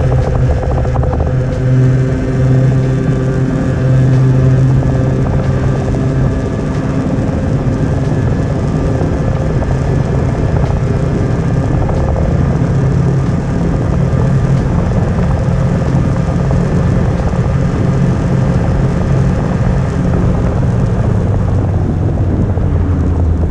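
A moped engine fitted with a Polini cylinder head runs hard through a test run, a loud, continuous, high-pitched buzzing drone that barely varies and is heard alone without talk.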